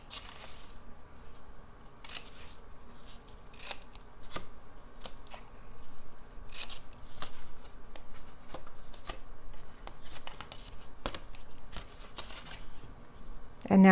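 Scissors snip repeatedly through the cardboard of a Hershey Nugget box as it is cut and trimmed, a string of short, crisp cuts spread unevenly over low room noise.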